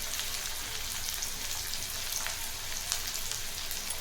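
Finely chopped onion sizzles in hot oil in a pan for Maharashtrian masoor dal amti, a steady, dense crackling hiss that holds evenly throughout with no talking.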